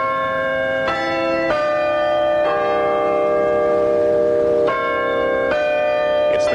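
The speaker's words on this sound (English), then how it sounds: "the constant ringing of the church clock" Church bells of St. Mary's in the English village of Twyford ring out in a loud, resonant peal, with several clear strikes overlapping into a sustained ringing hum.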